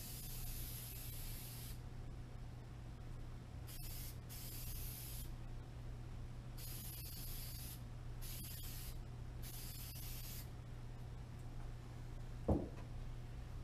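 Spray glue hisses from a can onto a pool table being recovered, in several steady bursts separated by pauses, quiet and close, with a single small knock near the end.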